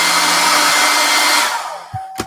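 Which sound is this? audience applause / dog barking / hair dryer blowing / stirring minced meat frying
hair dryer blowing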